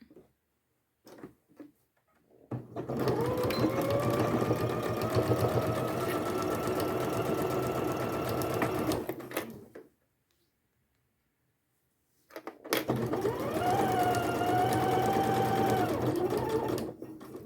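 Sewing machine stitching a quilted, padded zip pouch, running in two long steady bursts with a steady whirring hum and a short pause between them, no talking.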